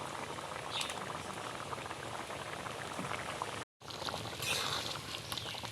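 A pan of pumpkin pieces boils steadily, its dense bubbling and popping filling the scene at an even level, broken once by a very short silent gap.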